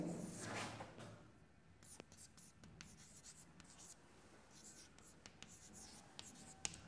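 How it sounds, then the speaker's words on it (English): Letters written by hand with a pen or marker during a music theory class: faint, intermittent scratchy strokes and taps, quiet and close, with brief speech at the start. "I'll write S-I-G-N-S for now."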